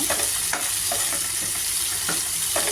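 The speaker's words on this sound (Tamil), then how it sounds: "இப்போ தக்காளி போடணும்." Tomato for a prawn pepper fry sizzles in a pan with onion, ginger and garlic, a close, steady frying hiss broken by several soft stirring scrapes, with no talking.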